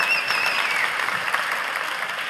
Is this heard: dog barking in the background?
no